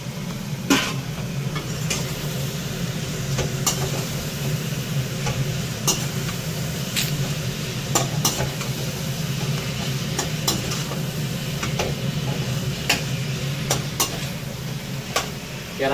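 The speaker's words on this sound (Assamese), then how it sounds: "ভাজি পেলাই এতিয়া চিকেনখিনি দি দিওঁ" Chicken pieces fry in a kadai with turmeric and spices, giving a steady close sizzle broken by sharp scraping clicks as the meat is stirred and turned.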